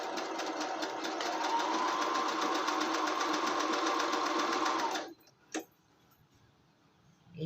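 Sewing machine stitching cloth with white thread, a fast, steady mechanical whirring chatter running for about five seconds, then stopping abruptly, followed by a couple of faint knocks.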